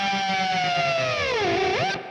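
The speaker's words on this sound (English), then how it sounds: "And then I've got a clon that I put on for the really heavy overdrive bits, which gives you that." Electric guitar driven through a Klon overdrive pedal at heavy gain, a sustained bent note with rich harmonics that dips and rises in pitch, loud and alone, cutting off abruptly at the end.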